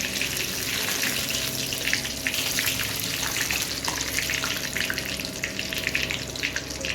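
Bay leaves and dried red chillies sizzle in hot oil in a kadai at the start of a mutton kosha, giving a steady, close crackling hiss that runs unbroken throughout without any talk.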